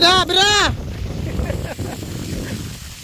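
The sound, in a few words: strong wind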